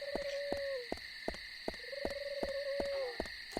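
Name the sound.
owls hooting in the video game Deadly Premonition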